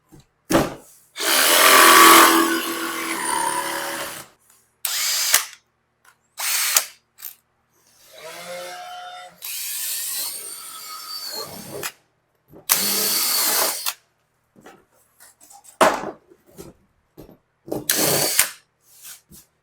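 Power drill boring a hole through a homemade car door card for a 1971 Volkswagen Super Beetle: loud whirring bursts of drilling broken by pauses and short mechanical clicks, close up, with some talking in between.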